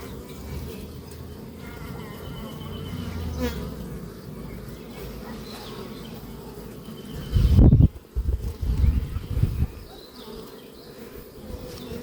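Honeybees buzzing and flying around a hive full of honey, a dense continuous hum of many insects up close, broken by a few loud thumps and handling knocks near the hive.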